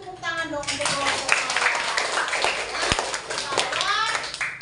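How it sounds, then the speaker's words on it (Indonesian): A classroom of children claps for a student group, a dense patter of many small hands with kids chattering and calling out over it throughout. "Beri tepuk tangan dong untuk kelompok"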